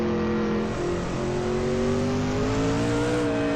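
Loud, continuous race car engine drone from a 2000 GARRC racing game recreation at Homestead, holding a steady high-revving tone that climbs gradually in pitch as the car accelerates, with no voices.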